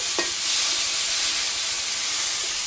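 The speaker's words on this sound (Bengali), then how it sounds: "এটা একটু ভালোভাবে করে ভেজে নেব" Ginger-garlic paste sizzles and hisses steadily in hot oil while being stirred for chicken curry, a loud, constant frying sound close by with a faint scrape of a utensil.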